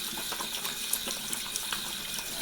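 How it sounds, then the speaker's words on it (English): Lukewarm water running steadily from a bathroom tap into a sink, a continuous close splashing hiss with no one speaking. "I get some lukewarm water going."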